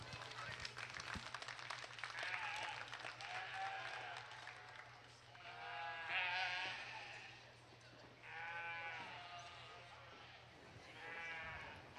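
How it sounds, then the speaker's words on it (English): At a breeding sheep show, a crowd claps for the first class of ewes while sheep bleat repeatedly nearby, the ragged applause running under the loud animal calls. "let's go ahead and give the first class ewes a big round of applause"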